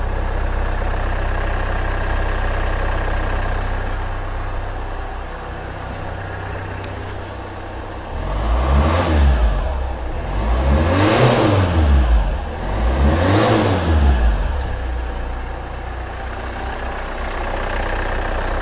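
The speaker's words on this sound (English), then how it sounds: "I'll just go and rev the car." A Hyundai car engine with an EGR valve fault, tested by revving. It idles steadily, then three rising and falling revs swell in turn before it settles back to a close, loud idle.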